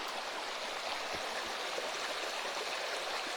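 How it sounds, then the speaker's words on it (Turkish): A stream flows beside a forest field near a waterfall in Gönen, giving a continuous broadband rush of water, steady and fairly loud with no talking. "Su sesiyle beraber uyuyacaksınız."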